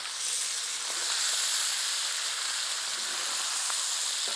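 Sausage and onion for southern fried cabbage with potatoes sizzle steadily in a pan while being stirred, a continuous bright frying hiss with faint scraping ticks now and then.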